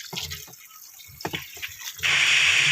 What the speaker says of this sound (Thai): เอาน้ำลงไปเลย